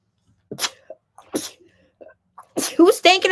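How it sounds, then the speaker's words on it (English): A person sneezes indoors in short, close bursts with small breathy sounds between them, and a brief voiced sound comes at the end. "I've been sneezing all day"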